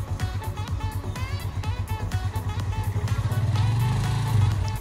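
A motorcycle engine revs and rises in pitch as a learner rider lets out the clutch, a steady mid-level drone swelling louder toward the end, close by with some background noise.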